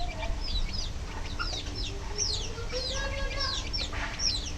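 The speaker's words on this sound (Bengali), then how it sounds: "কোয়েল পাখির বাচ্চা উঠছে, দাও।" A newly hatched quail chick, hatched under a village hen, peeps in quick high chirps throughout, with soft clucking and low farmyard rumble beneath.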